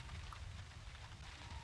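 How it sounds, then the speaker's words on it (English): Steady rain falls in the horror video game Unreal PT, a dense, even hiss with a low rumble beneath, continuous and moderately loud throughout the short moment with no voices. "Oh, it's the rain."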